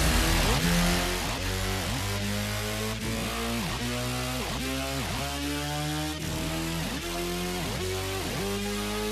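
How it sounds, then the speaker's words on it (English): Racing engines rev up and down in quick, repeating sweeps, one rising pitch after another, like cars tearing past in a rhythmic cycle. The sound stays loud and busy throughout, with no talking. "Ladies and gentlemen, start your engines."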